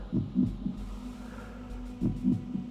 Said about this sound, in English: Kain also seems to lose hit points very slowly, hence the big thumping beat of heartbeat